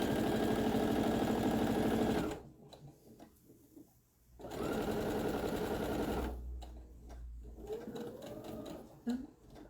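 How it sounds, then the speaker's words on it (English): Sewing machine stitching a seam on a quilt block in two steady bursts of rapid, close mechanical whirring, broken by a quiet pause and followed by softer handling noises and a voice talking. "we're just going to sew down here quickly"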